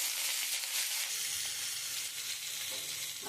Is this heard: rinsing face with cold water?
no